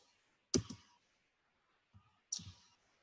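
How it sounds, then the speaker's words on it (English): Two crisp computer mouse clicks about two seconds apart, close and clean, each with a brief faint rattle, against an otherwise quiet background. "You're going to want to click the graduation cap,"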